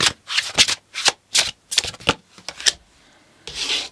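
Tarot cards shuffled by hand in a quick series of crisp riffling bursts, about eight sharp rustling strokes in a steady rhythm, close and clear, with a brief pause near the end before a final softer shuffle.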